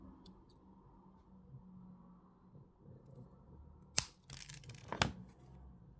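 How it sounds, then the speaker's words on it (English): Wire cutters snipping jewellery wire for a wire-wrapped ring, two sharp close clicks about a second apart, against a quiet background. "and then I'm going to cut these wires"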